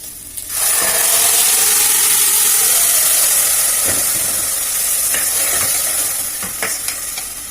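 A spoon scrapes and stirs through roasted tempering as cooked dal goes in for pongal, a steady loud sizzle with rubbing, scraping strokes and occasional knocks against the pan, no talk.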